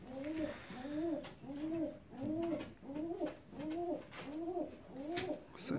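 Fancy ornamental pigeons, a male and female pair, coo in a steady repeating rhythm of about eight close, clear calls, each a soft rolling double-toned coo, with no talk over them.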